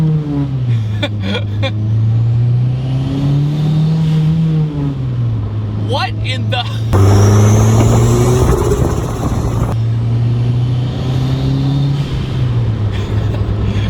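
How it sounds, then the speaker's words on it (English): A big-turbo Honda CR-V engine revs hard with a blow-off valve hissing loudly, starting as a low droning idle, building to a roaring burst around the middle, then dropping back, with someone speaking briefly over it. "The blow-off valve is really, really loud."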